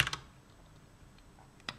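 Computer keyboard typing while working in Emacs: a quick pair of close key clicks at the start, a quiet pause, then one more sharp keystroke near the end.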